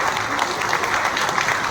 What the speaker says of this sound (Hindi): एक बार शुभी के लिए और उनकी मदर के लिए जोरदार तालियां बजाइए